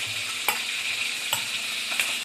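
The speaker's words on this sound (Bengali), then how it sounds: "এইভাবে অল্প অল্প করে মাছটা আমি পুরো ভেজে নেব।" Pieces of khoshola fish fry in a pan with a steady bright sizzle, broken by three short scraping stirs at even intervals, close and moderately quiet, with no voices.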